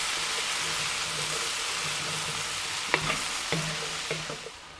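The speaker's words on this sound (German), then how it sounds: "Das braten wir jetzt noch mal ein bisschen mit an." Kassler and potatoes fry in a Dutch oven with a steady sizzle, broken late by a few sharp clinks and scrapes as the pan is stirred.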